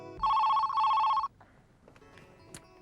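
A telephone ringing in two long electronic trill bursts, close and loud, then falling silent as the call connects, leaving only faint room noise.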